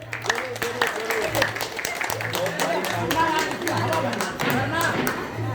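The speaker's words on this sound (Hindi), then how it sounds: "तो इनके लिए भी जोरदार ताली होनी चाहिए" An audience claps for a guest in a crowded hall, a dense run of overlapping hand claps that holds steady for several seconds while voices talk over it.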